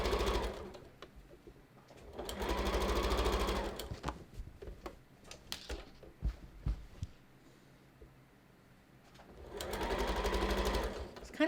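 A sewing machine stitches the seams of a dress form cover in two sustained bursts of steady humming, separated by a quieter stretch of clicks and handling noises.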